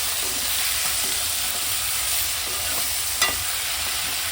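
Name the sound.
tomatoes frying and being stirred in a pan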